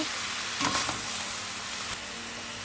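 Mixed vegetables for veg kothu parotta being stirred in a hot pan, a soft continuous sizzle with a brief scraping swirl early on and a faint tap near the end, close and quiet, no voices.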